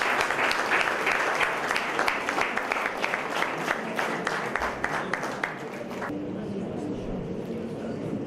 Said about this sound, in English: ladies and gentlemen, a round of applause for Standards 7 and 8.